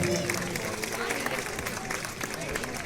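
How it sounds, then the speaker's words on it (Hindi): Hearty applause greets Mahesh at an STPS colony Republic Day function, a continuous wash of clapping from a crowd mixed with babble and noise throughout. "महेश जी, जोरदार तालियों से आपका अभिनंदन"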